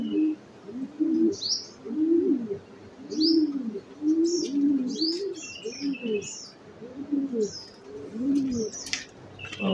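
Racing pigeons cooing steadily through the whole stretch, low rhythmic coos repeating close by with scattered chirps and small bird calls higher up, during a derby return as the birds come down to land at the loft.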